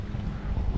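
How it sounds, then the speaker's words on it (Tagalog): Strong wind roars steadily on a boat at sea, a dense low rumble of gusts buffeting the microphone for the whole short stretch, with no clear voices over it. "Ang lakas ng hangin"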